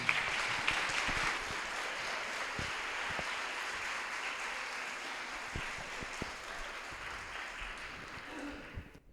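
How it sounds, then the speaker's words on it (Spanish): Broad clapping from a lecture audience, steady at first and slowly thinning out toward the end. "Un aplauso."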